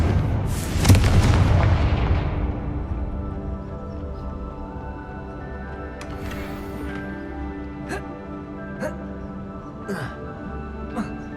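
A Confringo blasting spell in Hogwarts Legacy erupts in one big, booming explosion that rolls off into a long fading rumble, followed by a few light clinks and ringing tones.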